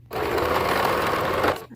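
A sewing machine stitches tights fabric in one quick, steady burst of rapid mechanical whirring, close and continuous, then stops abruptly.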